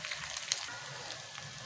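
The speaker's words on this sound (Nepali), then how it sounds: "अब यो प्याजलाई पुरै नरम हुनेसम्म गरी पुरै गल्ने, प्याज गल्ने गरेर भुट्ने छु" Onions softening in oil in a pan for a chicken gravy, giving a steady, close, moderately quiet sizzle with fine crackle throughout and no talking.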